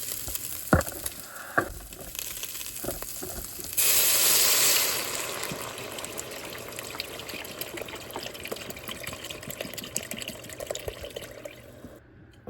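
Broth and water poured into a pot of meat for pozole, a steady close trickle and splash with a louder gush partway through, then a continuing bubbling pour with no talk.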